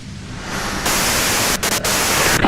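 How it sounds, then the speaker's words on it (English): Radio white-noise static from Disco Elysium hisses loudly and steadily, jumping up in level partway through, with a few brief dropouts and flickers near the end. "you can do it through the white noise"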